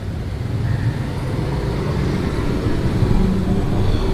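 Heavy jammed traffic on a crowded street at night in Kayutangan, Malang, a continuous low rumble of idling and creeping cars and motorbikes, loud and steady with no clear individual passes.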